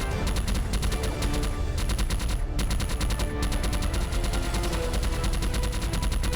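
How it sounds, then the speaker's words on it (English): A ship's gun in the space shooter game Omni Link fires in rapid, unbroken automatic bursts, loud and steady throughout with no voices. "So when I fire this gun, I move faster."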